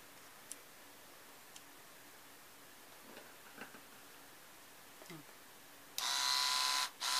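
Battery-powered trimmer for eyebrows, underarms and bikini area switching on near the end, a sudden steady high buzz lasting about a second, a brief break, then resuming, after quiet handling clicks.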